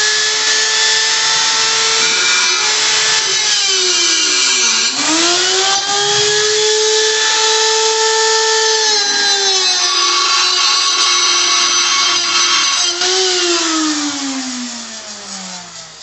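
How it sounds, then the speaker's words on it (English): A power tool cutting a plastic shim whines loudly and steadily, its pitch dipping and rising as it cuts, then winding down at the end; no talking. "Right now, I'm using a power tool."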